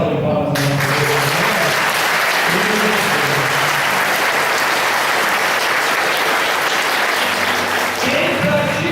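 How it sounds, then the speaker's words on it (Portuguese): Church congregation breaks into loud, sustained applause that fills the whole stretch, dense clapping from many hands with a crowd murmur underneath, tapering slightly at the very end. "Dê essa salva de palmas na nossa igreja."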